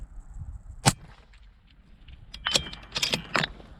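Rifle fire at a snowy outdoor shooting range: one sharp crack early, then a cluster of several quick sharp impacts later, fairly close against quiet wintry background.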